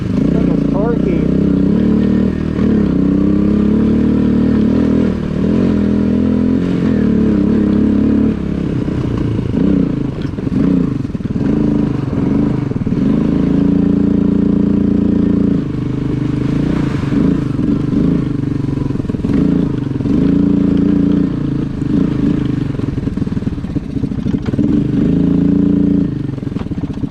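A Suzuki QuadRunner 230 ATV engine revs and pulls hard in low range while being ridden, a loud, close, rough motor note rising and falling with throttle, with clatter from the machine and someone talking over it.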